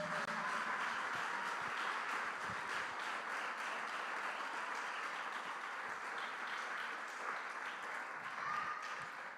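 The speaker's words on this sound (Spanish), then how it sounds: "Denle un fuerte aplauso al Señor." A church congregation applauding during a worship service, a sustained, somewhat distant wash of clapping from a large crowd, fairly even in level throughout.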